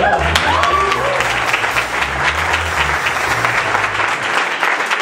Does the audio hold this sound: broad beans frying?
no